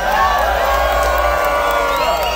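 A dense festival crowd at a live concert roars, whoops and screams continuously, loud and full, with many overlapping high shouts and no pause.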